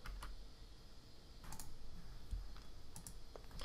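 Soft, close keystrokes on a computer keyboard come in small bursts of clicks with short pauses between them, faint and alone in a quiet room.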